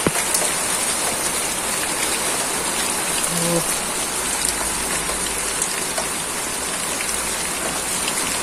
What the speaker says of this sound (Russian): Ой, спасибо тебе, дождик, как мы тебя ждали.